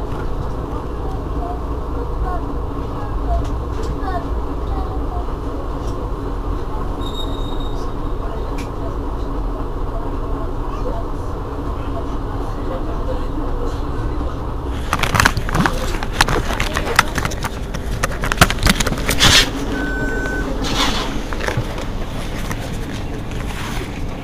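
Inside a Mercedes-Benz Citaro G C2 articulated city bus, RTM fleet number 2178, on Marseille's B2 line: steady low engine drone and cabin rumble, growing louder and more rattly partway through, with faint talk inside.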